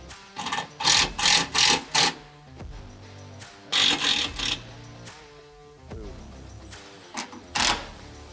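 Bolts being tightened on an aluminum roof for a Polaris RZR XP 4 UTV, with short clustered bursts of mechanical ratcheting in two main groups and scattered clicks between them, close and moderately loud, no speech.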